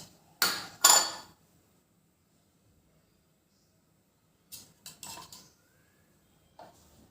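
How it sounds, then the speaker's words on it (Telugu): A thick metal kadai is set down on a stove: two sharp, loud metallic clanks up front, then a quiet pause, followed by a few softer knocks and taps. "ఇప్పుడు స్టవ్ ఆన్ చేసి ఇలా మందపాటిది మూకుడు తీసుకోవాలండి."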